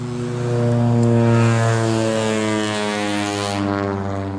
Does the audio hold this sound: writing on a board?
no